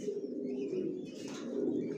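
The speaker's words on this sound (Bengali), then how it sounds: "জনসন লাইনের লংয়ের কবুতর পালি আমার লফটে।" Johnson-line long-distance racing pigeons coo in a loft, with a close, steady run of soft throaty calls rolling on continuously and no talk over them.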